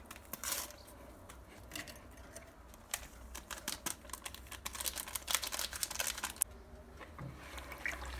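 Cake batter with orange is stirred in a bowl, giving close, continuous wet scraping and rapid clicking taps against the sides, with no talk.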